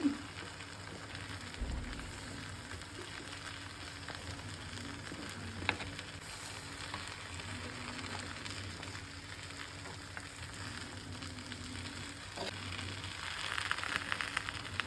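Green chilies for a Kerala-style kolla milagai fry sizzle in hot oil in a pan, a steady, soft crackle running throughout with a few faint clinks.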